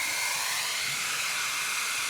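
A handheld hair dryer blows a steady stream of air, holding a balloon aloft in its airflow, a continuous loud broadband whoosh with a faint whine, heard alone.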